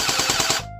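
A battery-powered Unlocx V1 gel ball blaster pistol fires full auto in a fast, even burst of about half a second, loud and close, then cuts off as a motor whine winds down.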